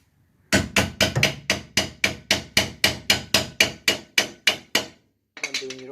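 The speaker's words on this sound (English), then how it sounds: "Hammer and screwdriver." Someone hammers with a hammer and screwdriver while restoring a 1966 Dodge Dart GT barn find: about fifteen loud, evenly spaced metallic strikes, then a short pause and a final burst of knocks.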